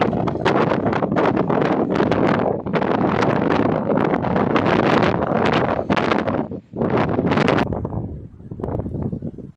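Wind blowing across an open rock clearing on a hillside trail near Bariloche, a loud, steady gusting roar buffeting the microphone almost throughout, with brief lulls near the end.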